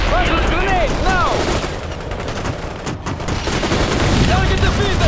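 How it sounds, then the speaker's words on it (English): Grenade launches and gunfire in the World in Conflict video game: loud, dense bursts of rapid shots and booming explosions, with whistling projectiles arcing overhead and battle radio chatter mixed underneath. "Put the grenades and fire! Launch the grenades now!"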